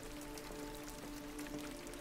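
Rain patters steadily in Detroit: Become Human, a soft, constant hiss of drops on surfaces with a faint tonal hum beneath, quiet and unbroken.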